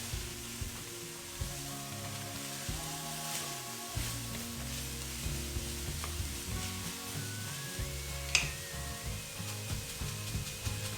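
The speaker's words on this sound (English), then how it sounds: "Let's get that frying up with our hamburger." Steady sizzling of ground beef and onion frying in a pan, with occasional scraping and stirring clicks, close and continuous.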